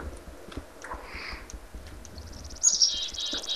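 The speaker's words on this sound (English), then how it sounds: "I like the birds in the water and stuff." Birds in the Minecraft Tekkit video game, with faint, scattered chirps over a low background and a brighter trill near the end.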